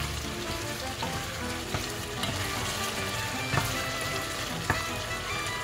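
Chicken adobo with oyster sauce sizzles steadily in a pan while being stirred, a dense continuous frying hiss with occasional soft utensil knocks, close and even throughout.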